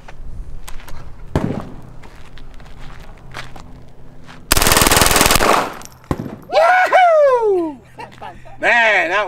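A Tippmann Micro 22 LR firing outdoors, loud rapid bursts of automatic fire lasting about a second, followed by ringing, whistling echoes; people talk quietly before the shooting.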